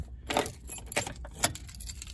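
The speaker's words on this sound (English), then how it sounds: "There we go, got my keys." A set of keys jangles as they are picked up, three quick metallic rattling bursts at close range, with no talk.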